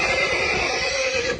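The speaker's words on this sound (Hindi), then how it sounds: "ये घोड़ा है" A stallion at a stud farm gives a loud, sustained neigh close by, one continuous whinny with no talk over it.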